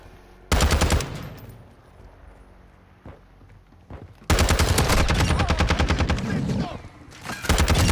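Rifle fire in the shooter game Modern Warfare II (2022), loud sustained bursts of rapid automatic shots in three stretches separated by quieter gaps with a few single cracks.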